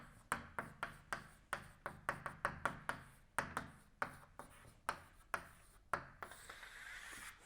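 Chalk taps and strokes on a board as rules are written out during a quantum field theory lecture, a quick irregular series of sharp close knocks followed by a softer scraping rub.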